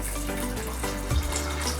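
Water pours into a pressure cooker holding soaked cowpeas, a steady close splash with a brief heavier gush near the end, no voices.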